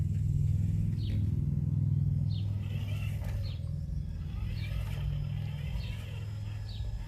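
A TRX4 RC crawler truck with a K5 Blazer body drives past at close range, a steady low motor rumble holding throughout, with faint bird chirps repeating over it.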